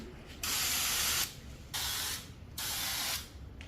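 Three bursts of spraying hiss from a spray gun applying a thick coating, each about a second long with short pauses between, close and fairly loud.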